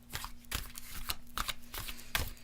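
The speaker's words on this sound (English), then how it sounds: "Okay, shuffle the cards." Tarot-style oracle cards being shuffled by hand during a card reading, soft papery riffles and slaps in quick bursts, close and fairly quiet over a faint steady hum.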